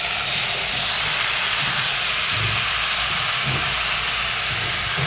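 Dal and spices fry in a hot pan while an Assamese dal dish is cooked. A loud, steady sizzle and hiss runs unbroken throughout, close up and with no talk.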